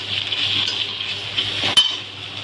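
Ginger garlic paste and onions fry together in a pan for dal makhani, giving a steady close sizzle with one brief utensil clatter near the end.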